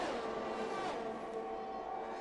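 A racing video game race car with DRS open roars past while overtaking for second place on the Azerbaijan circuit, its engine note steady and close, then shifting in pitch as it moves by.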